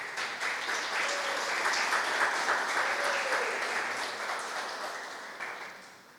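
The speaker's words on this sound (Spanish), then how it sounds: "fuerte los aplausos para ellos" An audience applauding at a university panel discussion, a full, continuous round of clapping with a faint voice briefly audible beneath, swelling early and then slowly tapering off.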